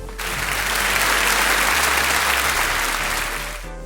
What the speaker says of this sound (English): I think the panellists deserve a big round of applause